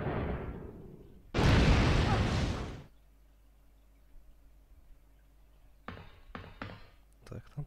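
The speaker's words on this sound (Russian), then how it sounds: "Произошел взрыв," A loud explosion booms in Resident Evil 3: Nemesis, a dense roaring blast lasting over a second. Quieter pops and debris-like clatters follow, with a low hum underneath.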